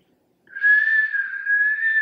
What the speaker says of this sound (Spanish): Oh, there's a special language with whistles.